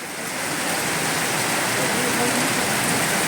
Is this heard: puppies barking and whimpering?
no